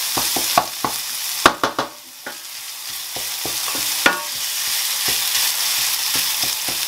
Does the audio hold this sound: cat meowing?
no